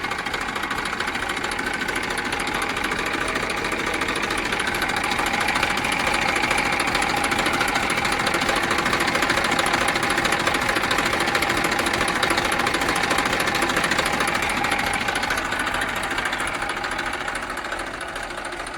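A Massey 241 tractor engine runs continuously up close, a loud, steady diesel clatter with a rapid knocking rhythm and constant vibration from start to finish.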